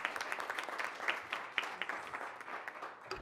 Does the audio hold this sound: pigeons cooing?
no